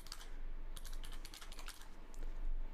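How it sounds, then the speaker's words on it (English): Typing on a computer keyboard, with quick bursts of clicky keystrokes and brief pauses between words, close and steady with no talking. "So I'm just going to type machine learning here."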